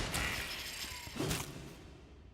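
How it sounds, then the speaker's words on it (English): A door in a video game swings open into a room with a mechanical creak and a whooshing rush, followed by a brief clatter, moderately loud, then fading. "We just opened the door into that room."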